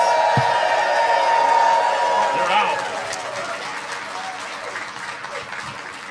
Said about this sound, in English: the entire culinary team a huge round of applause